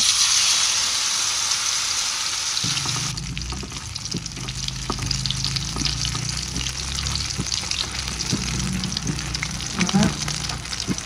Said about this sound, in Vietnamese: bắt cái chảo dầu xong rồi bây giờ anh sẽ đổ vô và mình chiên bột luôn